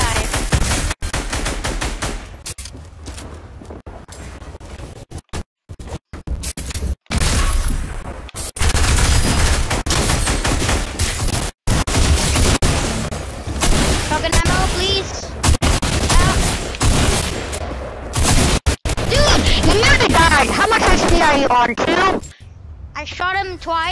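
Dense, loud gunfire from the video game Fortnite, with rapid bursts and booms running almost continuously under overlapping talk from players.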